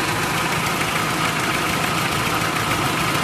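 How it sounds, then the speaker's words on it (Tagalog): A Toyota 2C diesel engine idles steadily after a rough-idle fix, giving a continuous, even, close-up mechanical rumble with light knocking texture and no talking. "yung makina ay papatay na natin"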